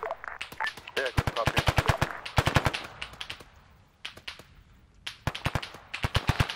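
Rapid bursts of automatic gunfire in the video game ArmA 3, with several long volleys and short pauses between them, loud and close, and a radio-style voice talking in between.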